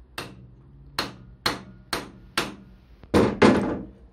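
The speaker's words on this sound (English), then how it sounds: "I'll give this a quick tap on so it gets a good grip" Hammer tapping a tool onto a snapped bleed nipple on a Suzuki Bandit/GSX-R motorcycle brake caliper: seven sharp metallic blows, evenly spaced then two heavier ones close together at the end, near and loud with no talk.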